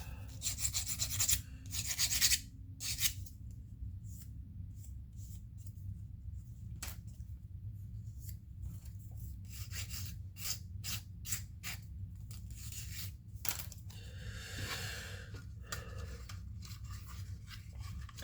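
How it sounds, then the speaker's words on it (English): Sprue gates being cleaned off plastic parts of a Tamiya 1/35 Comet tank model: close, quiet clipping and scraping with rapid small snips and rubs over a low steady hum, without talk. "Clean little sprue gates off there."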